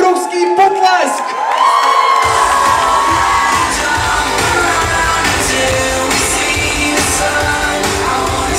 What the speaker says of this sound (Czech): Tohle si zaslouží ještě jeden obrovský potlesk!